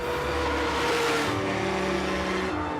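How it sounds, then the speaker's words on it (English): A Ferrari F12 TDF with its V12 engine roars steadily and loudly, a dense sustained engine note with a slight rise around the middle, no talking over it. "The V12, the very soul of Ferrari."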